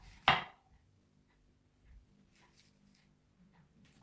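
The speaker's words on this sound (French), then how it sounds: "on coupe l'oignon en deux" A single sharp knife stroke cuts through an onion onto a board, close and crisp, followed by near silence with faint handling noises.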